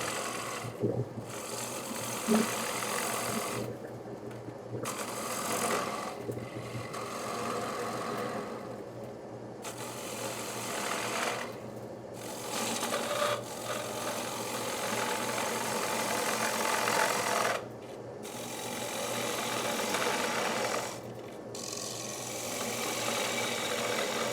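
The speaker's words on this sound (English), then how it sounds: "I'm going to do a little bit more with the bowl gouge" A bowl gouge cutting wood on a lathe while turning a footless bowl, a steady whirring hum with rhythmic scraping and repeated brief pauses as the tool lifts off and reengages, moderately quiet, no speech.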